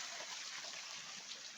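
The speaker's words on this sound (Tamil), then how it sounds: "இந்த பாருங்க, தண்ணி ஓடிக்கிட்டே இருக்கா." Water running from a pipe out of rock in a forest setting, a faint, steady trickling and splashing stream with no breaks.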